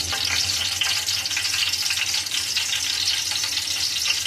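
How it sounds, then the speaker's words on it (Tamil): Cinnamon and cardamom frying in hot ghee for mixed biryani, a close, steady crackling sizzle that continues evenly throughout. "நெய்யை ஊற்றி நெய் கொஞ்சம் சூடாகிறதுக்கு பிறகு பட்டை, 5 ஏலக்காய்,"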